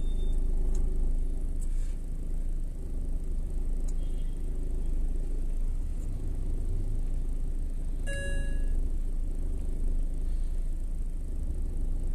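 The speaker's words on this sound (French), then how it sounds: "Vous avez entendu le petit bim là? C'était tout simplement la pression des freins qui s'est remise." A BMW Mini R50 gives a short, bright electronic chime when its brake pressure resets, heard once partway through over a steady low engine hum inside the car.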